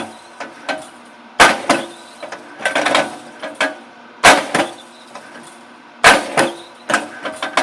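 A Timber Champ Rapid Strike 10 ton flywheel log splitter works through a log already split in two, giving loud, sharp cracking strikes roughly every one to two seconds with smaller knocks and creaks of wood between them.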